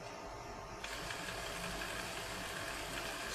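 A small electric throttle body motor from a Mercedes S320 spins freely on a workbench after repair, giving a steady, close mechanical whir with faint hiss that picks up slightly after the first second and holds evenly throughout.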